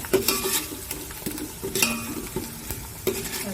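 Onion fries in very hot oil with a low sizzle, punctuated by several sharp metallic scrapes and taps of a spoon stirring against the pan.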